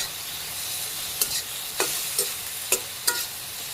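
Okra fries in a pan as garlic goes in, giving a steady sizzle broken by about six sharp scraping clicks of stirring, close and clear with no talk.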